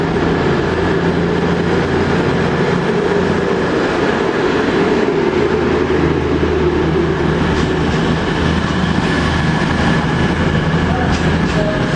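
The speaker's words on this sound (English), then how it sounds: "East Midlands train going down to London St Pancras." An East Midlands passenger train bound for London St Pancras passes close through a station near Nottingham or Derby, giving a loud, steady rumble with rail clatter and engine drone throughout.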